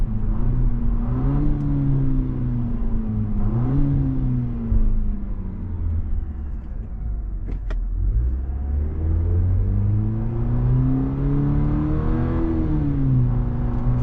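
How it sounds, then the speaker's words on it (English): A 2025 Cadillac CT4-V's engine drones steadily and rises in pitch as it revs, drops, then climbs again with a deep, continuous rumble from its louder exhaust. "we got a louder exhaust now"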